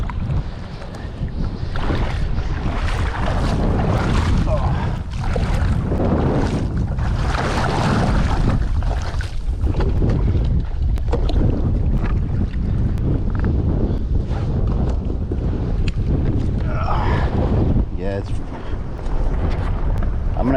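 Strong wind buffets a microphone out on open water during kayaking, a loud continuous roar with gusting surges and rustling, a voice speaking faintly at times beneath it.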